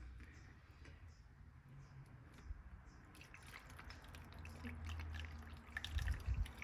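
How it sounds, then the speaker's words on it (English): Water poured from a container into a small pitcher on a kitchen counter while making oat milk, a steady splashing trickle that swells and grows louder toward the end. "we're gonna pour some more water in"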